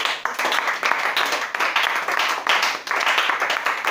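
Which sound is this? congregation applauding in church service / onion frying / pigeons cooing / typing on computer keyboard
congregation applauding in church service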